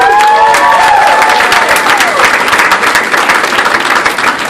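Loud, dense applause from a comedy club audience with whoops and cheers rising over it, sustained throughout and close.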